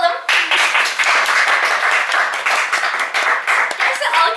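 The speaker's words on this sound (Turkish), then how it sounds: "Gerçekten alkış alabiliyorum" A small group claps together in a room, a loud burst of quick, dense hand claps starting abruptly and continuing with slight rhythmic swells, close to the recorder.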